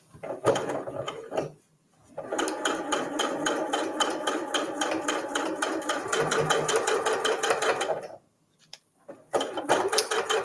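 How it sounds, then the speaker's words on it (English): Sewing machine stitching 100% cotton fabric with cotton thread, a close, steady rapid chatter in two long runs separated by short pauses, with a few brief bursts at the start and end. "Bring my machine in, and I'm just going to stitch over these lines that I've drawn."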